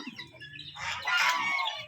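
Chickens clucking on a farm where pigs and poultry share a drinking area, a busy overlapping run of clucks and squawks, close and fairly loud, with no talking.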